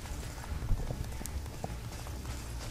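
Horse hooves clip-clop in Castlevania: Lords of Shadow while riding, a quick irregular trotting patter mixed into busy game sound and background noise.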